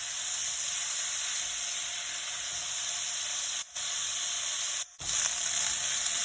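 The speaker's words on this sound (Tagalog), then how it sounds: "Sutay natin to guys ng saglit lang bago natin ilagay ang corned beef." Potatoes seasoned with pepper and salt sizzle and fry steadily in a pan, a loud continuous hiss that runs alone without talk, with two brief breaks.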